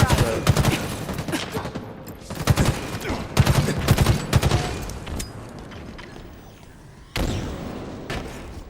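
Gunfire in a capture-the-flag video game, rapid bursts of automatic shots in clusters with short pauses, loud and close, followed by quieter stretches and another burst near the end.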